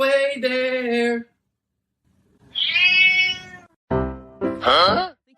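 A kitten meows loudly and close by in several drawn-out, rising and falling cries separated by short pauses, the last ones quick and strained, with no talking over them.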